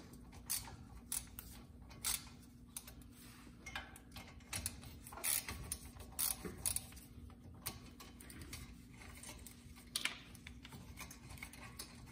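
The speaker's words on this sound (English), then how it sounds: "Now take your caliper bolts off all the way." A hand ratchet works loose the front brake caliper bolts on a Porsche Cayman 987, faint scattered clicking bursts with pauses in a quiet garage.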